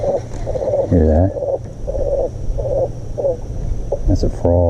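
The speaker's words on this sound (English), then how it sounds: "That's a frog." A frog croaks a few times at a lake during a fishing outing, with low pulsed calls repeating through steady outdoor background noise and a voice nearby.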